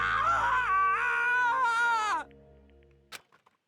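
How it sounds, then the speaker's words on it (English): Sad, strained screams from a Danganronpa character in a Chapter 2 trial, loud and wavering with pitch slides for about two seconds, then cutting off into near silence with a faint brief click. "As Tarka's sad screams invaded our skulls"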